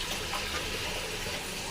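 Water poured into a pot for a Katla fish curry, a brief steady rushing splash close by with no speech.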